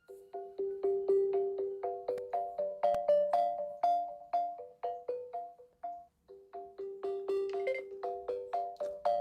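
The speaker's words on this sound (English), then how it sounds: "This hold music is so bad." Telephone hold music plays on its own as a thin, tinny melody of bright, evenly plucked electronic tones that repeat in a steady rhythm at moderate volume with no talk over it.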